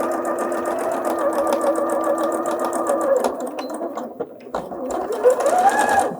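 A sewing machine stitches a tiered maxi skirt seam with a steady, fast running whir, pausing briefly and then resuming with a back stitch, loud and close with no talking.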